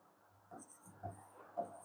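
Three short, faint scratching strokes of writing on a board in a physics classroom, evenly spaced and close, in a quiet room.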